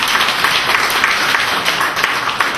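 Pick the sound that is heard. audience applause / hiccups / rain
audience applause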